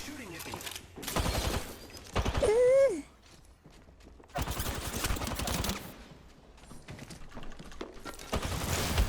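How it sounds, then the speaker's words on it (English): Video game gunfire comes in loud bursts of rapid shots, separated by quieter stretches, with a player speaking between the volleys. "I just missed every shot. Shooting at me."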